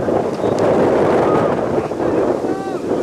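Wind gusting across an outdoor high school soccer field, buffeting the microphone in a steady, loud rush that fills the whole stretch, with faint distant voices underneath.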